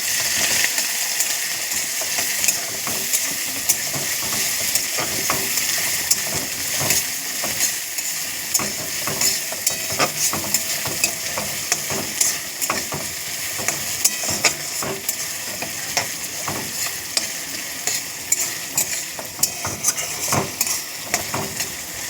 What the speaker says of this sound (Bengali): আদা রসুন পেঁয়াজ দিয়ে দিচ্ছি একটু নাড়াচাড়া করবো